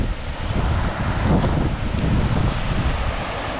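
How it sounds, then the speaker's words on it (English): A rain-swollen river in the Helvellyn range rushes in a continuous loud roar, blended with gusting wind buffeting the microphone, with no voices. "it's obviously had a ton of rain. The river is absolutely ripping through."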